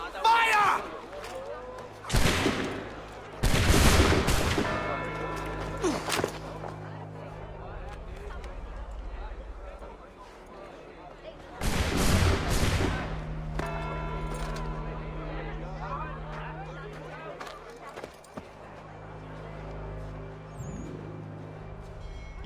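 A volley of musket gunfire bursts out twice in a colonial-era Assassin's Creed 3 cutscene, loud sharp cracks with echoing tails, set amid orchestral score and background crowd noise.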